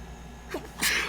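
A single sharp sneeze bursts out during a tabletop role-playing game session, close and fairly loud against a quiet room, with a brief intake before the explosive release.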